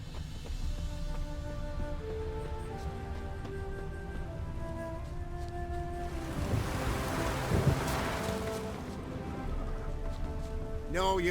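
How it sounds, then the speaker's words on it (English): Rain and thunder in The Witcher 3 video game, a steady wash of rainfall with a low rumble of thunder swelling midway, set under game music tones and faint voices. "No use doing any work in this rain."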